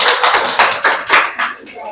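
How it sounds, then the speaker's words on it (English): A school class clapping for a pupil during an English lesson: a short burst of quick, uneven applause from a group of children, fairly loud and close. "Clap for Elena."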